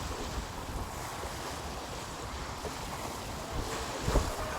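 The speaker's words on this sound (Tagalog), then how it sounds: "kapag nakita ninyo po yung alon na ganito kalalaki, yan o" Large waves break and wash along the shore at Manila Bay's Dolomite Beach, a continuous quiet surf mixed with wind buffeting the microphone, with a slightly louder surge near the end.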